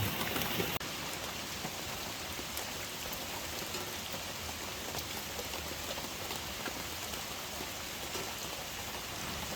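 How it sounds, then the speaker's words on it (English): Steady outdoor rain during a hailstorm over a garden, a dense even hiss of drops on surfaces, loud and close with no voices, after a brief louder gust at the start. "rain's blowing in on us here too"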